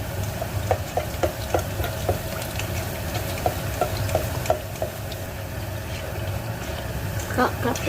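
Khanom fak bua batter frying in a shallow pool of hot oil, a steady close sizzle with small irregular pops and spatters continuing throughout, with faint background hum.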